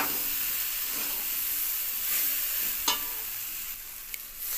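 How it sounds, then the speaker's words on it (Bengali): Water poured into a pan of sizzling okra, pumpkin and potato vegetarian curry gives a broad, steady hiss and steamy sizzle, close by, with a couple of small clicks near the end. "এবার জল দিয়ে দেওয়া হলো"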